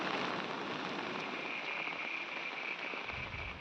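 Heavy rain pours over a village street in Saurashtra, Gujarat, with runoff water rushing along the road. It makes a dense, steady, loud wash of noise that holds throughout, with no voices.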